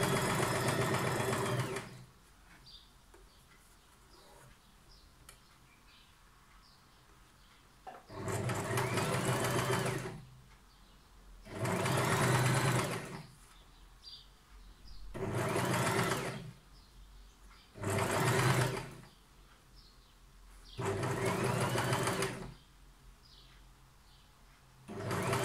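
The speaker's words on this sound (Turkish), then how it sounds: "Şu şekilde biyemizi hafiften çekerek dikiyoruz." Sewing machine stitching bias binding onto wide-leg trousers with pockets, running in six steady bursts of a few seconds each, separated by quiet pauses, close and clear with no talking.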